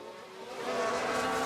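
In the F1 Manager 22 racing game, a race car spins with a rising engine whine and tyre roar that swells over a second and a half, loud and continuous.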